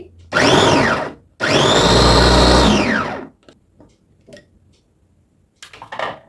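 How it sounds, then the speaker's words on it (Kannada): An electric vegetable chopper whirs as it chops onion and carrot, in two loud motor bursts, a short one then a longer one, its pitch rising and falling, followed by quiet clatter. "ಚಾಪರನ್ನು ಕ್ಲೋಸ್ ಮಾಡಿದೆ, ಮೋಟರ್ ಆನ್ ಮಾಡ್ತೀನಿ."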